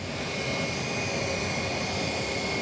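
An Air Serbia airliner at Zurich airport roars with a steady, loud, close jet-engine rumble that holds unbroken throughout.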